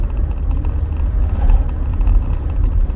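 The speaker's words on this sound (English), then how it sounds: "the car drives as expected" A Rover 25 GSi hatchback drives along a road, giving a steady low engine drone and road rumble from inside the car with no voices, even and continuous throughout.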